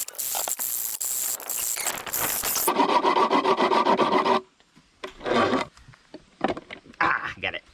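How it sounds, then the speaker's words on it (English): A hand file rasps back and forth through a 5/8 inch metal rod in steady, loud strokes, first continuous and dense, then breaking into shorter separate passes toward the end. "I'm gonna spend the next hour probably trying to file through this"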